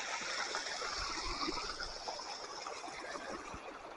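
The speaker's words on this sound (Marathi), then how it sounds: "पाणी चाललंय तिकडून." Water runs steadily through an irrigation channel into a sugarcane field with a soft rushing trickle, fairly quiet and continuous, no voices.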